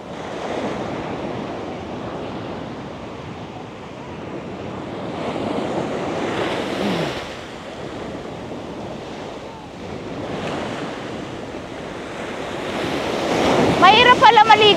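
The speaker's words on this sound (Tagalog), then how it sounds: "Masyado malakas ang alon." Strong ocean surf crashing at a Florida beach, a steady broadband roar of breaking waves with surges around the middle and end, buffeted by wind noise on the microphone and a few faint voices near the close.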